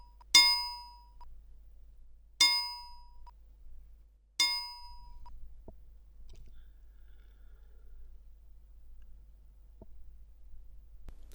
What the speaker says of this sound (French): le pendule se met à osciller d'un plateau à l'autre en produisant un son à chaque contact